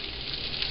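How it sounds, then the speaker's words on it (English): Mushrooms dropped into hot olive oil in a pan give off a soft, steady sizzle with light crackling pops, close and continuous, with no talk over it. "You can hear a little bit of the sizzle on the thing."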